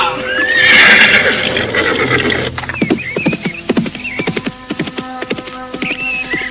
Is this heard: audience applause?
no